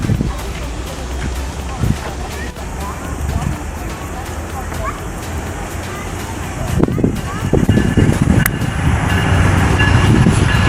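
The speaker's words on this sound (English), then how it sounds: "Oh, they got a train here too." A train rumbles past in Toronto with heavy low clatter and rolling noise that swells louder toward the end, wind and faint voices mixed in.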